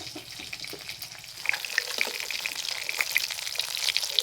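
Food frying in a pan on a low-heat stove, a continuous crackling sizzle that grows busier midway with sharp spitting pops, close and clear with no talk.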